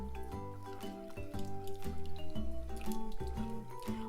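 Cold milk being poured into a béchamel sauce in a pan, giving soft liquid splashing and dripping sounds, fairly faint and close with no talk.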